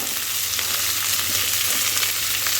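Three thickly cut onions fry in a pan for Kerala-style chicken kondattam, giving a loud, dense, steady sizzle close up, with soft stirring scrapes blended in.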